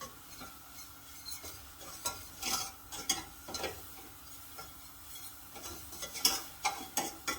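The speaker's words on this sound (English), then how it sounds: "Get all the flour mixed in." Flour is stirred into melted butter in a pan to form a paste for a chicken and dehydrated mushroom pie, giving close, irregular scraping and stirring strokes with a light sizzle and no talking.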